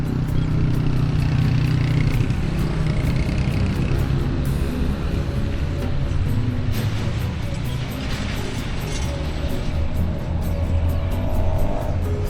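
Steady, dense car traffic rumbles without a break beside a crowded shopping area on a busy holiday, engines and passing vehicles blending into one continuous wash with faint crowd noise.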